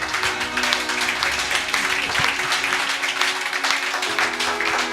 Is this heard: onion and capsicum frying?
no